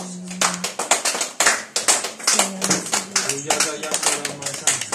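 A worship congregation claps hands in a steady, brisk rhythm, the sharp claps close and loud, with singing voices running underneath.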